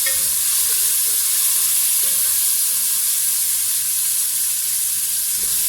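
Turmeric and red chili frying in a little water for kadhi pakora, a loud continuous hiss and sizzle, close up and steady throughout, no talk.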